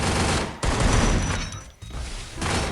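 Sustained bursts of MP5 submachine gun fire in the Free Fire mobile game, loud and dense rattling fusillades with a brief lull near the middle before firing resumes.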